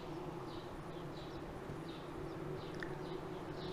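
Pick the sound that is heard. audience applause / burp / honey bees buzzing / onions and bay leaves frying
honey bees buzzing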